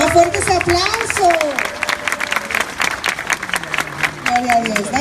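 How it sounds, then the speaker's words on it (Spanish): Applause from a crowd at a Spanish-language church youth event, loud sustained clapping mixed with cheering voices and crowd babble, with people talking over it throughout. "Más fuerte ese aplauso"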